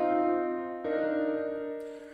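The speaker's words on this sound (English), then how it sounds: "it gives that which is kind of a bell effect" Sustained piano notes ring out with a shimmering, bell-like reverb tail, a second chord struck partway through and a bright high tone entering near the end.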